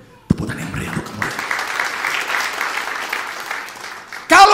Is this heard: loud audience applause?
yes